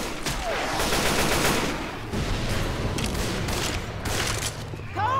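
Gunfire from the video game Left 4 Dead 2 sounds as dense, continuous automatic shooting with rapid repeated reports. The firing is loud and close, with game noise filling the mix.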